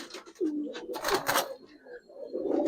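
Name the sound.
silver Giribaz pigeons cooing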